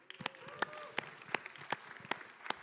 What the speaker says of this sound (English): One more round of applause for Linda Minnick.